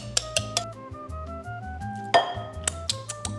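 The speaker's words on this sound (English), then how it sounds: "I'm going to grab one of these whisks and just smash my sweet potato in my bowl" A metal whisk mashes hot, fresh-from-the-oven sweet potato in a bowl, giving a series of irregular clinks and taps against the bowl over steady background music.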